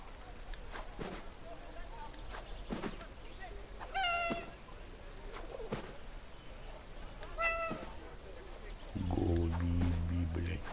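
A cat meows in the war video game 11-11: Memories Retold, giving two clear, separate meows over a quiet background of footsteps and thumps, followed by a low voice.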